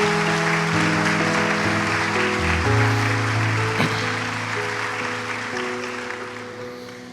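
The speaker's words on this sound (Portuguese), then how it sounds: "pode aplaudir ao Senhor" Congregation applauding during a church service: a broad wash of crowd clapping mixed with sustained organ or keyboard chords, loud at first and gradually fading over several seconds.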